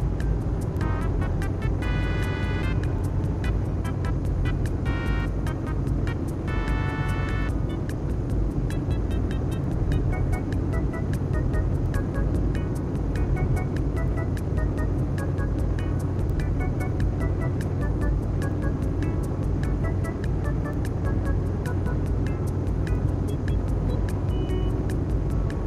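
A Land Cruiser 4.5 VX in the CDID driving game holds a continuous, steady engine drone at speed, with a few short beeping tones early on.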